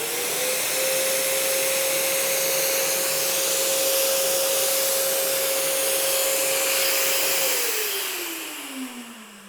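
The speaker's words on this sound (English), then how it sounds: "the sander's hooked to the vacuum, and the vacuum turns itself off when I'm not sanding" A loud, steady whine of an electric sander with a dust extraction vacuum running alongside, holding one tone before winding down at the end.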